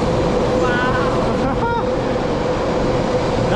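A loud, steady rushing roar of a Taiwan High Speed Rail bullet train passing close by, with brief voices heard over the noise.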